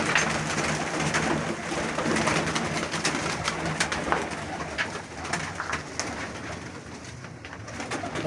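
Pigeons being fed grain coo softly and steadily from a flock close by, with faint fluttering and scattered clicks, and no talk.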